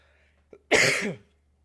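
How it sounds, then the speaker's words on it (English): A single close, harsh cough bursts out after a tiny preceding catch of breath, then quiet. "I'm so sorry, I'm coughing, y'all."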